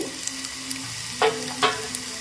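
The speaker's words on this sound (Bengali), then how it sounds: "টমেটোর পেস্টটা ঢেলে দিচ্ছি" Tomato paste poured into a hot pan of fried chopped onion for tomato soup, giving a soft continuous sizzle with a couple of brief louder spatters.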